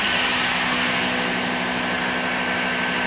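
A Dyson V6 cordless vacuum cleaner runs at high suction, a loud, steady, close whooshing whine with no change in pitch throughout and no talking.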